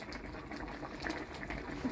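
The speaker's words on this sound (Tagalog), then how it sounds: "Kumukulo na daw." Coconut milk fish stew with shrimp bubbles in a pot, a steady soft simmering hiss and low bubbling throughout, fairly faint and even with no talk over it.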